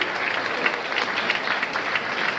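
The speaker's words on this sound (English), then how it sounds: "Keep clapping." Dense, sustained applause from an audience at an awards ceremony, many hands clapping steadily and close, filling the room without a break.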